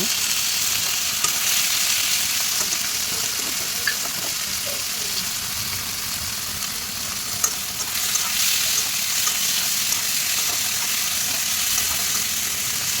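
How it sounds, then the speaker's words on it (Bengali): Boiled mushrooms frying in a pan, a steady hissing sizzle with occasional faint stirring clicks, close and continuous throughout. "মাশরুম বয়েল হয়ে গিয়েছে। এখন আমি এগুলোকে অল্প ফ্রাই করে নেব।"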